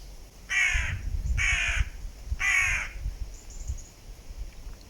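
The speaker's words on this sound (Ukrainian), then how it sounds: "Не каркай." Three loud, harsh caws from a crow in an even rhythm, near and alone over a low rumble of wind, with a fainter call at the end.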